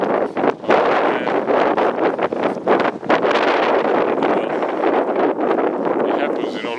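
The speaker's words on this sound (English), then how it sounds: "Look how windy it is." Strong gusting wind buffets the microphone on a snowy mountain summit during a ferocious snowstorm, a loud continuous roar that rises and dips over several seconds.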